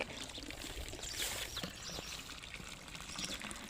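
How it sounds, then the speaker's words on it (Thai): Water pours from a tap or hose into a garden pond, a continuous soft splashing stream heard close and fairly quiet, with faint birdsong in the background and no talking. "เปิดน้ำลงบ่อ"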